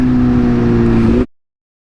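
A BMW S1000RR sportbike engine at high revs, a loud steady near drone with strong harmonics that holds for about a second before cutting off abruptly into silence.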